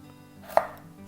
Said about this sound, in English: I just go around the edge and cut away the tough skin.